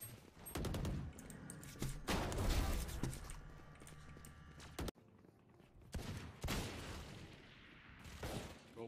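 Video game gunfire in a shooter, loud bursts of rapid shots and booming reports in several clusters, with a brief gap midway before more shooting.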